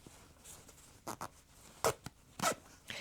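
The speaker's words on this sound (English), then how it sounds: "If you can reach your hand in here and open the zipper a little more" A zipper on a small quilted pouch made from leftover quilt blocks is pulled open in several short, scratchy bursts, close by, with quiet pauses between the pulls.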